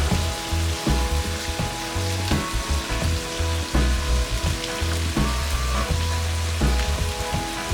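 Garlic and ginger frying in olive oil for homemade noodles give off a steady, dense sizzle that runs unbroken throughout, with tonal background sounds layered underneath.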